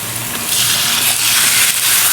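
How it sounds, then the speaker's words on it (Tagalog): Chicken pieces dropped into a hot pan over sautéed onions, with a loud hissing sizzle that swells as the meat hits the oil and keeps crackling steadily up close. "Lagyan na natin ang manok."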